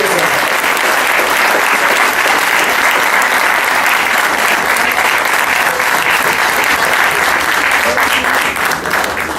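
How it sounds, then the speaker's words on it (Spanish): Loud, sustained applause from a crowd of union workers at a commemorative gathering, a dense, even roar of many hands clapping without pause for about nine seconds. "nosotros pedimos un fuerte aplauso para recordarlos"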